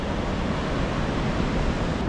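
Ocean surf breaking at Jeffreys Bay (J-Bay) during a solid swell, a steady dense rush of waves and wind with no pauses, fairly loud and continuous.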